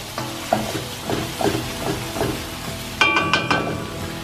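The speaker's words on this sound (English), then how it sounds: "Stirring it a little bit more." Egg fried rice is stirred in sizzling oil in a pan: a steady fry hiss with rhythmic scraping strokes of a utensil roughly every half second, plus a few brighter clanks near the end and no voices.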